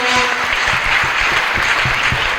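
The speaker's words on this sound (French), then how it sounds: "I will clap for the Lord Jesus." A congregation claps at a church service, applause dense and continuous from near and far with a loud, steady roar of hands and faint voices beneath.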